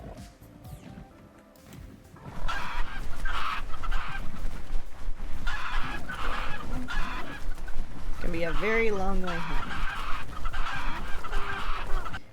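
Chickens squawk and cluck in a survival video game, loud busy fowl calls over game ambience, with a person talking briefly in between.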